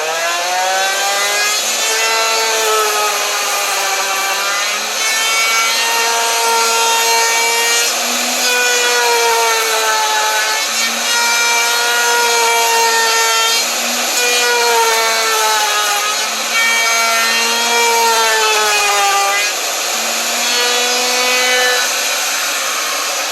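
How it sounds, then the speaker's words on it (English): A drill bit cuts into a wooden cheese board with a loud, continuous, close whine and grind that rises and falls steadily in pitch for over twenty seconds, with no voices. "my running edge of that drill bit is up against this wood"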